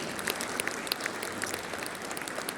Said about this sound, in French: il faut vraiment qu'on les applaudisse